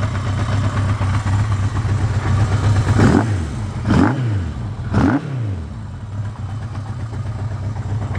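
A 1979 Yamaha XS1100 cafe racer motorcycle with tuned carbs idles at 1,000 RPM with a steady low throb, broken by three quick revs that rise and fall before settling back to idle.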